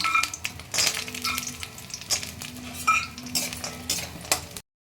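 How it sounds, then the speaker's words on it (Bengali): Bori lentil dumplings frying in mustard oil in a wok, a steady close crackling sizzle with intermittent spatula scrapes and light clinks of utensils throughout. "প্রথমে আমি কতগুলো বড়িকে ভেজে তুলে নেব"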